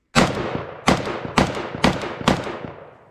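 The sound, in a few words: Polish Beryl M1-223S rifle firing a magazine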